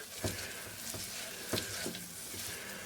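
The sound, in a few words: stirring flour paste cooking in a pan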